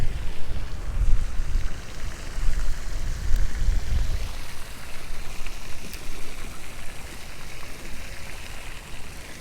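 Water from a pond fountain at an Ohio fishing pond pours and splashes in a continuous, fairly close rush of broadband noise with no voices.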